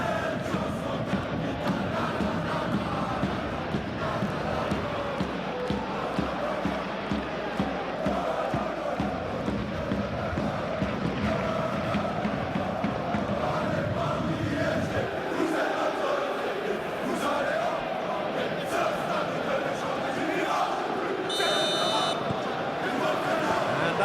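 A capacity stadium crowd roars in the eFootball 21 Champions League match between Paris Saint Germain and Bayern Munich, a dense continuous din of cheering and chanting under commentators' talk, with a brief buzzer-like tone near the end.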